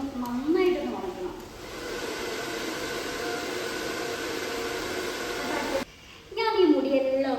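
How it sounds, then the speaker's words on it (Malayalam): A hair dryer blows steadily on towel-dried hair, a continuous breathy whoosh that runs for several seconds, briefly stops, then resumes, with a voice speaking at the start and end. "ഇത് ഡ്രയർ വെച്ച് നന്നായിട്ടൊന്ന് ഉണക്കണം."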